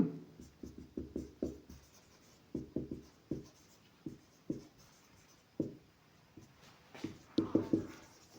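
Pen or pencil writing out a rational-number math solution on paper, with quick bursts of scratchy strokes in uneven clusters, close and fairly quiet, with no speech.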